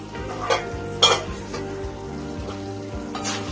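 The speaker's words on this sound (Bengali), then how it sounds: "একটু নাড়াচাড়া করে নেব।" Bengali banana flower curry (mochar ghonto) stirred in a pan after cooking under a lid, with a few spoon scrapes against the metal over a low steady hiss, close and alone.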